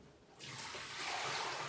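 Soaking water pours off fish that sat overnight, starting as a faint hush and swelling after a moment into a steady, close splashing stream that continues to the end.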